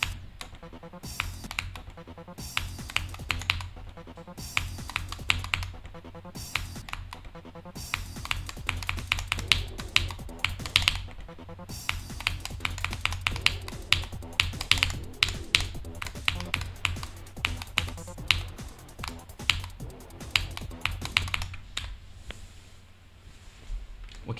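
Rapid, continuous clacking of keys on a Wuting 80HE computer keyboard, close and crisp with bursts and brief pauses, running alone for most of the stretch before fading near the end.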